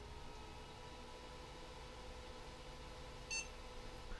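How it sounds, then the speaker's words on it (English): A thrift-store mid-2000s mini PC gives a single short power-on POST beep, faint and brief over a low hiss in a quiet room. "we got a post beep"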